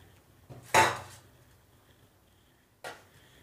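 Two small glasses for kulfi being handled on a kitchen counter: two separate close clinks, a louder one near the start and a softer one later, with quiet between and no talking.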